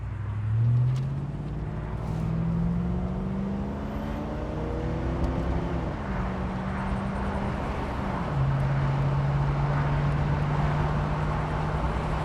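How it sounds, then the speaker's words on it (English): A 1993 Ford Mustang LX convertible with a 5.0L V8 accelerates through the gears from inside the car, its engine note climbing, dropping at each shift and settling into a steady cruise drone amid road noise. "Running through the gears here a little bit. I don't know how much you'll be able to really hear it shift."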